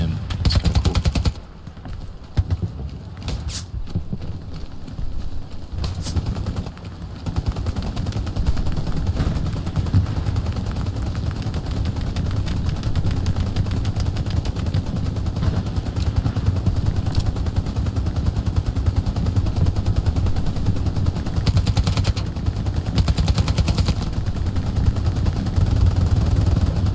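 Heavy machine-gun fire and scattered gunshots rattle almost nonstop in the WWII shooter Hell Let Loose, loud and close, with talk mixed in over the barrage.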